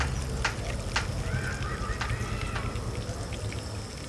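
Boneless honey chicken, double-fried until crispy, sits in hot oil and gives a loud, steady crackling sizzle throughout with a few sharper pops.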